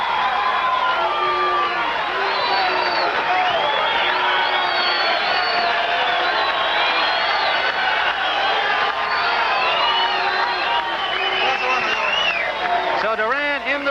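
Boxing arena crowd of about 2,000 in Las Vegas, a continuous steady roar of murmuring and shouts with a commentator talking over it.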